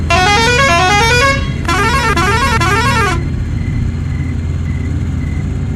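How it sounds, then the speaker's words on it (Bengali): A car horn honks in two loud bursts on a road, one long blast followed by a shorter stuttering series of beeps, then traffic hum remains. "বিরক্ত হয়ে হর্ন দিল"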